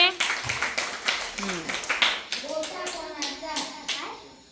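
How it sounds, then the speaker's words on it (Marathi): Small children in a school morning assembly clap for a classmate in several quick bursts of light hand claps, mixed with children's voices chattering. "अरे वा टाळ्या वाजा पूजासाठी"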